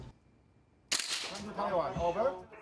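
A single sharp gunshot cracks after a quiet stretch at a shooting-practice class in Taiwan, followed by muffled voices and room noise.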